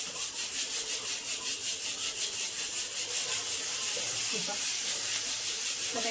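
Tomatoes fry in a pan for chole with a steady, bright sizzle and hiss that runs throughout, close and even, with a faint brief clink near the end.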